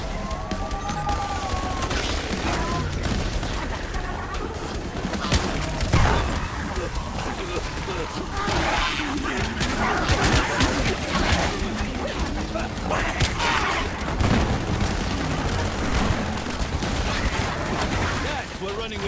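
Sentry guns fire nonstop in a Call of Duty Black Ops 7 zombies survival match on the Exit 115 map, a dense, loud clatter of rapid gunfire and explosions running the whole time with voices mixed in.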